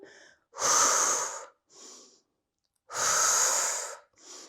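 Heavy breathing during a Pilates abdominal workout, two long, loud, rasping breaths with shorter, softer ones between, close and alone.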